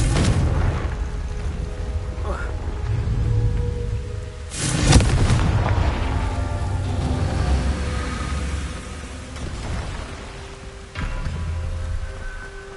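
Confringo blast spells in Hogwarts Legacy, deep booming explosions, one sharp and loud near the middle and another later, with rumbling game ambience between.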